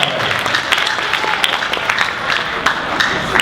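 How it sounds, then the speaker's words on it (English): Audience clapping at a school poetry recitation event, a moderately loud patter of many hands with some sharper individual claps standing out. "Why are you clapping"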